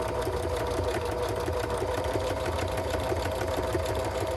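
A home sewing machine stitching through paper for crafts, running at a steady, even pace with a constant close-up mechanical hum and rapid needle chatter throughout, with no talking.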